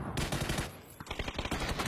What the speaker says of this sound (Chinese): 这波直接来给他来一波轰炸